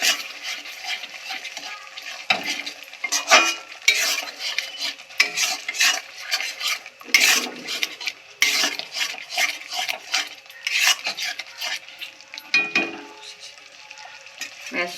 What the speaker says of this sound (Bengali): তারপর সুন্দরভাবে মশলাটাকে কষিয়ে নেব